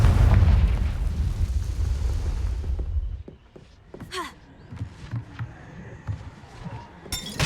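A heavy boom from a Confringo blasting spell in the Hogwarts Legacy video game, a loud low rumbling burst lasting a few seconds, then dying away into scattered game sounds and small pops.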